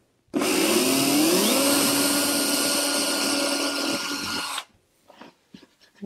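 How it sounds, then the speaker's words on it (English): A power drill whines steadily for about four seconds while it pre-drills a hole through a fabric-lined cornice board, then stops abruptly. The drill is close and loud, and a few faint handling sounds follow. "Go ahead and get my drill in place."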